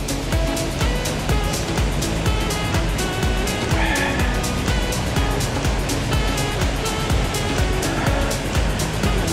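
Water rushes through Tahquitz Canyon in Palm Springs as a dense, steady roar that stays loud and unbroken throughout, with no voices over it.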